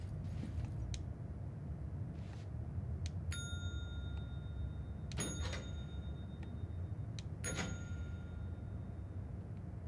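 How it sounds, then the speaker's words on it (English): A bell is struck three times, each hit a sharp, bright ding with a ringing tail, spaced a couple of seconds apart over a steady low background hum. "Do I gotta hit the bell again?"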